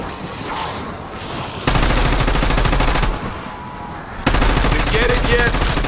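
Black Ops 6 zombies gunfire comes in two long, loud automatic bursts of rapid, close shots, separated by a quieter stretch of ambient game noise.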